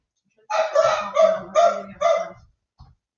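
Dogs bark indoors in five loud, evenly spaced barks, close by and not covered by talk, followed by one faint short yip.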